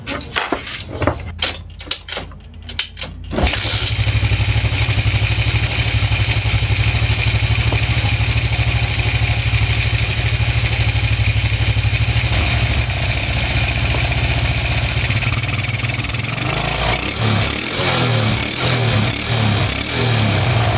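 A small motorcycle engine runs steadily and loudly after its carburetor and exhaust with gasket were refitted, following a few sharp clatters and knocks before it catches and settles into a continuous drone.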